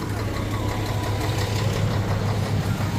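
A bus engine idles steadily at a bus terminal motor pool with a low, constant rumble and slight rhythmic throb, close and fairly loud, no talking.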